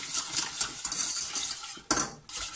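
Lemon cream being stirred nonstop over low heat in a pan on the stove, with butter being added: quick metallic clinks and scrapes of a utensil against the pan, close and busy, with one louder knock near the end.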